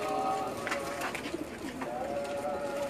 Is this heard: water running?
no